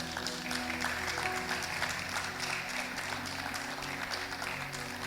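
A church congregation applauds during a sermon, a steady wash of clapping over a low sustained hum of background tones.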